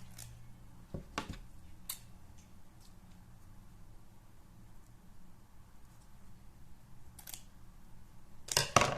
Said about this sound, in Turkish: Dümdüz bir şekilde kesiyoruz yarısını.